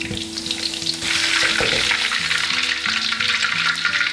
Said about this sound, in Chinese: 油烧热，再把它复炸一下